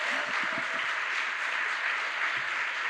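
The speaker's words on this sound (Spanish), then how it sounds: "dale ese aplauso más fuerte" A church congregation claps in a dense, continuous burst of applause filling the whole stretch, loud and steady, with a few faint voices mixed in.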